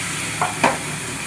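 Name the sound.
frying spices with onions in a pan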